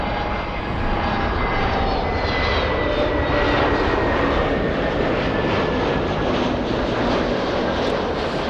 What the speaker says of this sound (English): as we see the A380 behemoth of the skies, the big one